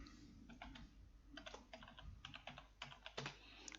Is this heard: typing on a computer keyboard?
yes